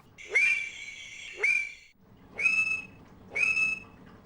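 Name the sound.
mating calls of West African frogs, Conraua alleni populations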